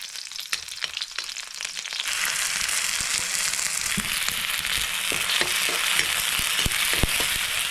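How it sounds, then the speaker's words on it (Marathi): Garlic dropped into hot oil for a tempering, cooking wild takla greens, bursts into a loud steady sizzle after a quieter start, with crackles and stirring scrapes throughout. "चला फोडणीला सुरुवात लसूण टाकली आहे"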